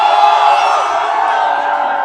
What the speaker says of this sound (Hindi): जंतर मंतर से निकलते ही देख लो बाहर कितनी भीड़ है।